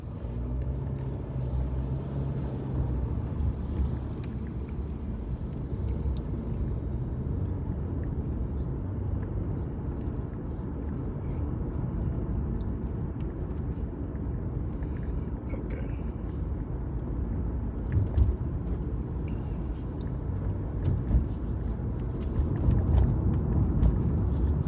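Inside a car driving toward a highway, a steady low engine and road rumble carries on throughout with no voices, swelling slightly near the end.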